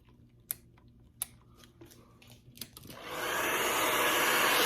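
A few sharp clicks and taps, then a hair dryer on a medium setting switches on and blows with a steady, loud whoosh, heating grip adhesive on a Glock 22 pistol.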